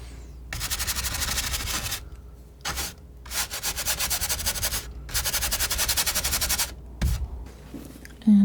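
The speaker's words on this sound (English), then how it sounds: "I'm just kind of scrubbing into some different areas here." A palette knife scrubs oil paint across a canvas in a cat-in-the-sun painting, making close, loud rasping scrapes in several long bursts separated by short pauses, with no talking.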